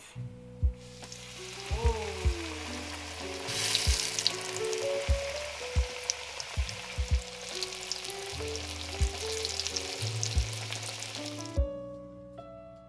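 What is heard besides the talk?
chicken frying in hot oil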